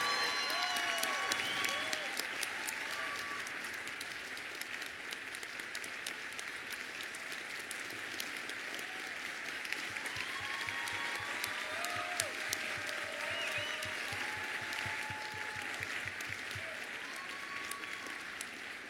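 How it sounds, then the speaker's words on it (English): An audience applauds two girls, a warm, sustained round of clapping that holds at an even level throughout, with faint scattered voices and cheers mixed into the crowd. "Can we have a big applause for these girls?"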